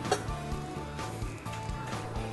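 Steady sizzling of whipped-egg-white pancake batter frying in a pan, a continuous crackling hiss with a faint low hum underneath, close and moderately loud.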